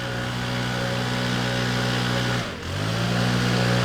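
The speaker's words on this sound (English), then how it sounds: "If these kids would stop their leaf blowers." Leaf blowers drone steadily and loudly with a buzzy, engine-like hum. A brief dip in the noise comes near the middle before it resumes at full strength.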